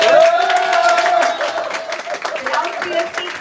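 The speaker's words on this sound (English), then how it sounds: "Loud cheer speaks for itself." An audience at a stage event lets out a loud cheer with applause and crowd noise, strong at first and easing slightly, while a voice carries a sustained tone over the top.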